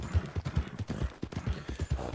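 Rhythmic clip-clop of a horse's hooves trotting in Red Dead Redemption 2, a steady close pattern of thudding hoofbeats with no voices.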